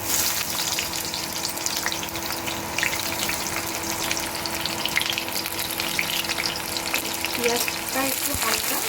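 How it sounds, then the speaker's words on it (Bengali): Onions frying in hot oil for homemade chowmein, a steady close sizzle with crackling all through and a few faint scraping knocks near the end. "তেলটা আমার গরম হয়ে গেছে। এবার আমি ছাড়বো এতে পেঁয়াজ।"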